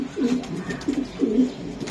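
Racing pigeon cooing close by in a loft, three soft low throaty coos in a steady rhythm over faint background noise.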